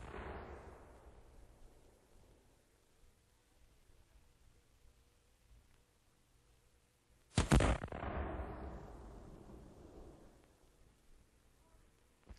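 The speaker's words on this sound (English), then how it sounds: "it's hard to believe that those peculiar sounds were cannon fire" Cannon fire captured by a distant microphone: a single sharp, heavy blast after a stretch of faint ambience, followed by a long booming reverberation that slowly dies away.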